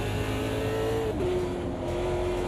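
Race car engine in AMS2 held at high steady revs and short shifted once midway, the pitch dropping sharply before climbing again, loud and close with a faint tyre edge underneath.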